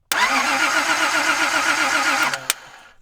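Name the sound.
car engine cranking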